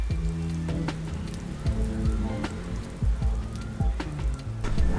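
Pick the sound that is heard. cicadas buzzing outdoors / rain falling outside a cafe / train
rain falling outside a cafe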